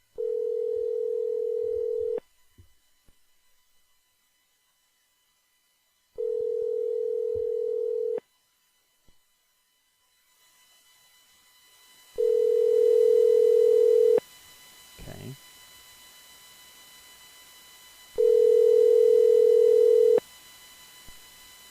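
A ringback tone repeats on a Verizon Wireless call: four steady two-second bursts separated by roughly four-second pauses, clear and close, with faint room noise between them.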